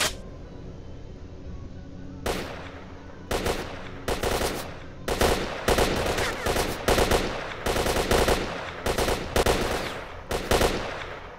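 Gunfire in S.T.A.L.K.E.R.: Shadow of Chernobyl: a dozen or so sharp, close shots come in irregular bursts and single cracks over low ambient rumble, with no talking.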